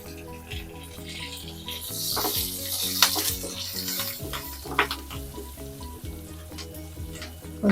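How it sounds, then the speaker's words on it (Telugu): Urad dal, mustard seeds, cumin and asafoetida tempering in hot oil for an Andhra gongura and bottle gourd curry: loud, close, continuous sizzling and crackling, with stirring scrapes and a few sharp pops, and no talking. "కొంచెం వేగనిద్దాం"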